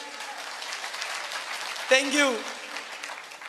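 Audience applause fills a motivational business event hall, a steady wash of clapping throughout with a voice speaking briefly over it.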